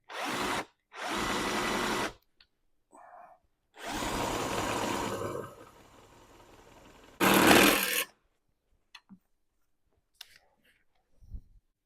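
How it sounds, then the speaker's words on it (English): A power drill bores an 11.5 mm hole in the cab of a classic Unimog, running in four loud close bursts separated by pauses and small handling knocks. "So looking at this, it looks like I've drilled it in just the right spot."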